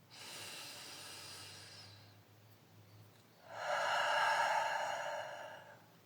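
Slow, deep breaths during a guided breathing exercise, in through the nose and out through the mouth: a soft airy inhale followed by a longer, louder exhale, close and alone without talk.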